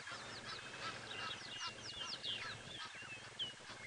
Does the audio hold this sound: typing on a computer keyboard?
no